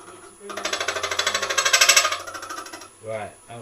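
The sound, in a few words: woodturning hollowing tool cutting wood heavy-handed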